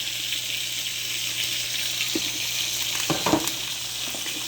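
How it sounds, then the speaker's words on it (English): Peppers and onions sauté in oil in a pan, giving a steady close hiss with a few soft stirring taps near the end. No one speaks. "over here in this pan, I have some peppers and onions sauteing in some oil"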